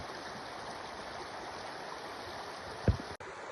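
Sungai Baringin, a village river on a quiet morning, flows with a soft steady gurgle; a single brief knock stands out near the end.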